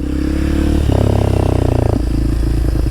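A small Honda Grom motorcycle ridden in tight figure eights, its engine droning steadily up close, with the pitch rising and falling as the throttle changes.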